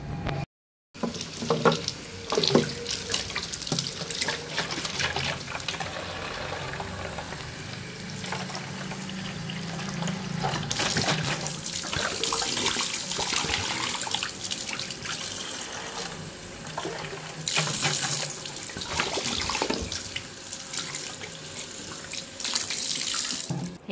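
Bottles being washed under a running tap, with a steady rush of water and splashing that goes on for more than twenty seconds, broken only by a brief pause near the start.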